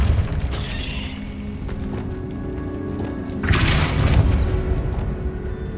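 A Depulso spell blast in the video game Hogwarts Legacy bursts out as a loud, broad whoosh and impact about midway, rising over a steady rumbling game backdrop with scattered thuds, no one talking.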